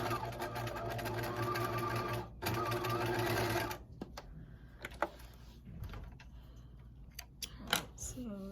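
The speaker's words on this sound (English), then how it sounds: "make sure the pocket's out of the way, and sew all the way down" Sewing machine stitching down a fleece pullover seam whirs in a steady, close run for nearly four seconds, then stops, followed by quieter handling clicks and taps of the fabric.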